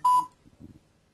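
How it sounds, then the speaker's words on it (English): A Mountbatten braille embosser gives a short, loud electronic beep at the start, followed by softer low mechanical murmurs that fade into quiet. "And Mountbatten should be making all sorts of R2-D2 sounds."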